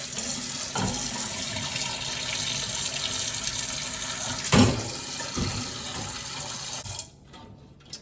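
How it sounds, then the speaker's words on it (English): Cold tap water gushing steadily over drained hard-boiled eggs in a pot at the sink, a loud continuous splashing rush with a brief surge midway before it cuts off near the end. "And run some cold water."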